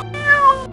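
A cartoon cat gives a single clear, rising-and-falling meow, loud and close, with no talking over it.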